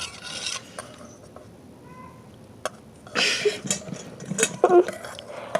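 Clear slime mixture is stirred slowly in a container, giving soft intermittent scraping and squelching with light clinks of the utensil, close and moderately loud.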